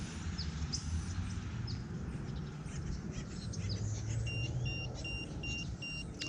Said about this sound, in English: Make this stop beeping.